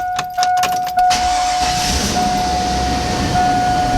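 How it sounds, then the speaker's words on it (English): A 1999–2013 Chevy truck engine is cranked and fires up, with a few clicks and jangling keys at the start before the motor settles into a steady, close idle hum with a faint whining tone. "So now we're in the vehicle, we're gonna start it."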